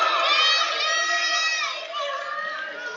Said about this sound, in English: And this crowd has come alive.